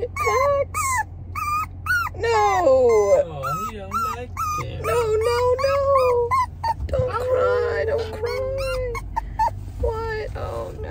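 A dog howls and whimpers in long rising and falling wails, close and loud, with short yips between them, while people talk over it.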